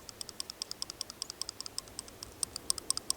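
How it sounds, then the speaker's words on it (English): A loose lockup on a bent-bladed budget EDC folding knife clicking in a quick, sharp series of small metallic ticks, close and fairly faint, with no talking. "hear that? The lockup is loose, and that blade is bent."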